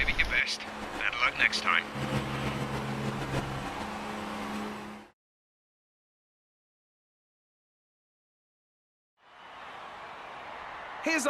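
Ferrari Formula 1 car in the F1 2018 video game rolling into parc fermé, a loud engine drone with shifting tones for about five seconds, then silence, then a broad hiss returning toward the end.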